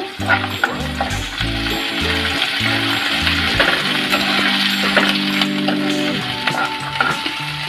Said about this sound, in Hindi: एक छोटा कटा हुआ प्याज भून लेंगे